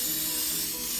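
A short, steady hiss of olive oil spray misting onto chicken in an air fryer, close and continuous for about a second.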